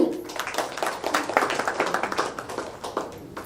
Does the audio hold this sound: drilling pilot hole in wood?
no